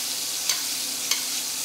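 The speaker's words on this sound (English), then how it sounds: "now that the herbs are starting to sizzle" Herbs sizzle in vegan butter in a pan alongside a veal chop, giving a steady, bright frying hiss with two faint stirring or basting clicks and no talk.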